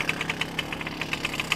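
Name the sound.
Zundapp Combinette 62 classic moped engine, kick-started by pedal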